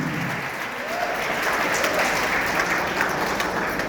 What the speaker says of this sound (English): So I think a big round of applause